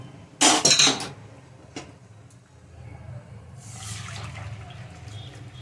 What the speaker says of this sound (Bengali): এবার আমি এই ওলের তরকারিটা প্রেশার কুকার থেকে কড়াইতে ঢেলে দেবো